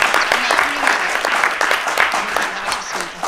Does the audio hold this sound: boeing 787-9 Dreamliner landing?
no